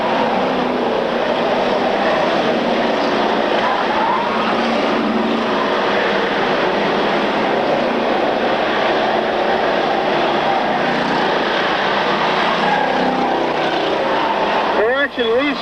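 Race cars lapping a dirt track, a sustained broad engine roar from the field passing by, heard under steady commentary.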